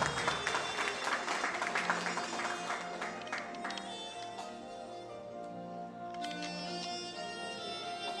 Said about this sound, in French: que je vous demande d'applaudir chaleureusement